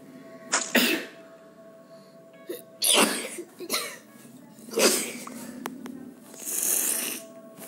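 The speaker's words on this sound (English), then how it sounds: "Yeah, I just sneezed." Several sharp, close bursts of sneezing or coughing come one after another, separated by short quiet gaps.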